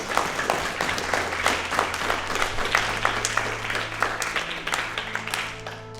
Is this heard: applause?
yes